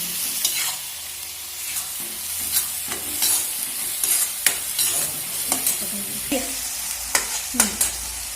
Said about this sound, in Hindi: फिर इसको हिला लेंगे और थोड़ी देर छोड़ देंगे।